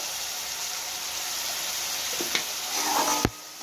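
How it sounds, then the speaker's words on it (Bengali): Chopped onion and tomato fry in hot oil for chole bhature, a steady low hiss of sizzling throughout, with a couple of sharp utensil knocks near the end. "তেল গরম হয়ে গেছে, পেঁয়াজ কুচানো, টমেটো কুচানো দিয়ে দেবো।"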